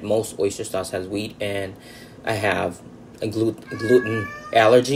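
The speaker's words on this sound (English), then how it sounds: "Sorry about my cat." A pet cat meows repeatedly in a home kitchen while someone talks about cooking Lao baked eggs, the drawn-out cries rising between and over her speech.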